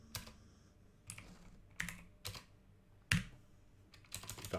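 Scattered keystrokes on a computer keyboard tap out a formula in a spreadsheet, quiet and close, arriving as separate clicks and small clusters with short pauses between them.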